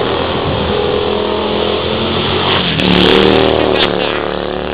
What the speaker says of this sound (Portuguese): Vai a moto, meu pai.